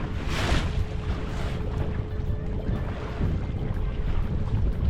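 A 2022 Alumacraft 185 Competitor boat moves slowly into the wind, giving a steady broadband rush of wind and water with a faint engine hum, close and continuous.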